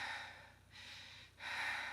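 A voice imitates nervous heavy breathing, three long, loud, airy breaths in and out, close and alone.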